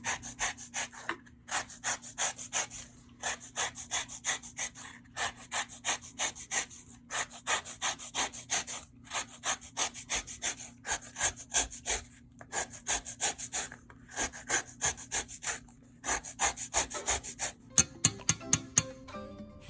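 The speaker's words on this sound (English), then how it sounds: "now we're going to zest a whole mandarin orange" A zester scrapes repeatedly across the peel of a whole mandarin orange in steady, close, rasping strokes grouped in rhythmic bursts with short pauses, ending in a few sharper taps; no talking.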